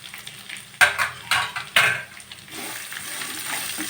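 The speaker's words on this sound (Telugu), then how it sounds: "తర్వాత మామిడికాయ తురుముకున్నది, ఇది కొంచెం వేగాలి ఫ్రెండ్స్." Grated raw mango frying in a pan for mango pulihora, a steady close sizzle broken by several sharp scraping stirs of a spoon against the pan, with no talk.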